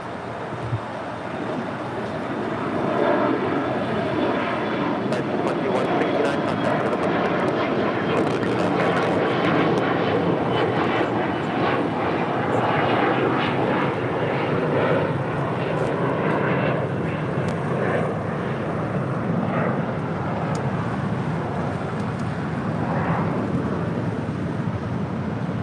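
An Alaska Horizon airliner in Washington State Cougars livery passes at LAX, its engine noise a sustained, moderately loud roar that builds early and then holds steady with a slight fade near the end.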